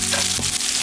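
Shallot sizzling in a pan of hot oil and lemon juice, a steady crackling hiss that stays loud and close for under a second, with no voices.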